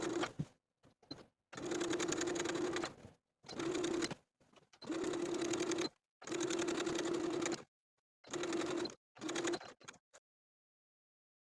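Sewing machine basting stitches along a fabric edge, running in about seven bursts of steady whirring stitching separated by short silent pauses, close and alone.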